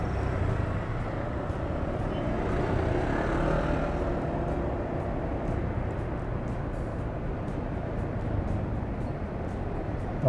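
Dense road traffic along EDSA near SM Megamall in Manila, a steady broadband roar of many vehicles passing close by, continuous and loud for the whole stretch with no voices.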